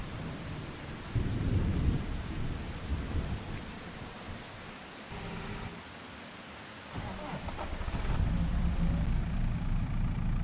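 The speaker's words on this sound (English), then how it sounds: "When's the rain supposed to stop?" Thunderstorm with steady rain in the farming game Farming Simulator 25, set on a North Frisian map: a broad low rumble of thunder rolls over continuous rain hiss, swelling loud at the start and again near the end.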